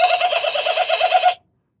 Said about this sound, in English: I did not know that squirrels could make that noise.